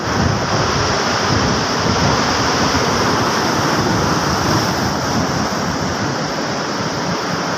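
Heavy sea surf and strong wind during Typhoon Inday form a loud, constant roar with wind buffeting the microphone and no speech.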